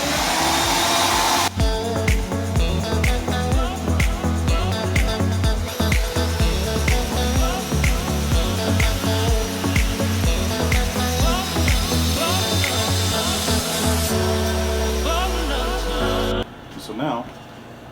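A Skil saw with a blade made for flooring cuts a floor plank in a bedroom. After a quiet start, a loud, steady motor whine and a harsh, gritty cutting roar run for about fifteen seconds, then wind down abruptly to near silence.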